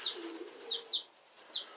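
Pigeons kept as a hobby calling close by: several short, bright chirping notes in quick succession over a faint low coo, with brief pauses between bursts.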